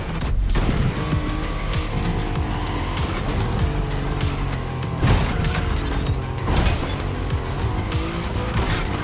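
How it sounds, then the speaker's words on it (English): Mustang Boss 429 muscle car in The Crew Motorfest racing game, driven hard with a continuous roaring engine, repeated tire squeal and skidding, loud and close throughout with gameplay effects layered in. "There's an absolute classic heading your way, a grail among collectors and Jim's greatest pride, the Mustang Boss 429."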